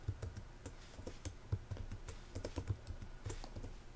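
Fingers tap quickly on a computer keyboard while coding, a close, busy run of light clicking keystrokes with short irregular pauses and no talking.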